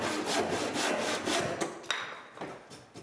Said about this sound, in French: les bas démontants du bâti sont recoupés avec une scie égoïne